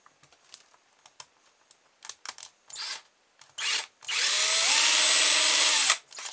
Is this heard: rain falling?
no